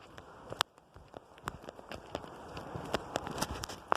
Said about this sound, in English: Heavy rain is coming down right this minute, round Box Hill.